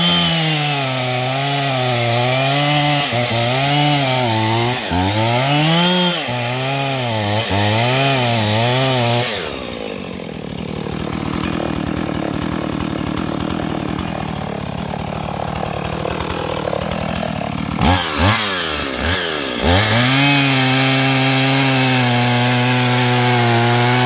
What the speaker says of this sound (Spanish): Ahí está Mawich cortando un palo.